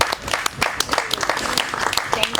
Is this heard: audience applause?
yes